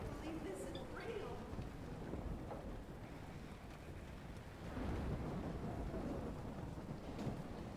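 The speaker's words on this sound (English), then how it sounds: "Right into the eye of the storm." A thunderstorm with rain, gusting wind and rolling thunder as a tornado approaches, heard as a continuous wash of rain and wind noise with deep rumbles building and swelling, voices faintly mixed beneath.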